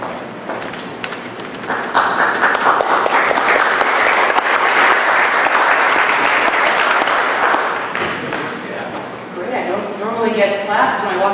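An audience at a community solar program meeting claps as a speaker comes up, a dense burst of applause that swells and then fades, with voices talking over the tail end.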